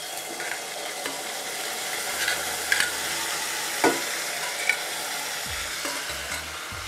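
Tomatoes sizzle and fry in a pan, a continuous close hiss with occasional scraping and clinks as they are stirred, and no voices.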